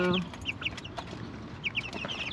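Small, roughly week-old chickens, including a black one, cluck in a backyard with a quick run of short, fairly close calls over quiet surroundings.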